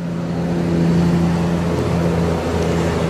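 A large bus rolls past at an airport, a steady low engine rumble with a faint pitch shift midway as it goes by, fairly close and continuous throughout.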